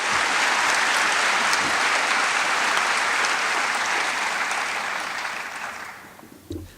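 School convocation audience applauding schools and support staff, a loud sustained wash of clapping from many hands that tapers off near the end.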